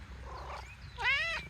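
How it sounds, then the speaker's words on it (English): A farm cat vocalizes close up in a short, soft rising meow-like call, followed by a louder, strained wavering cry, over faint low background rumble. "you can hear them purring because they like to show their happiness."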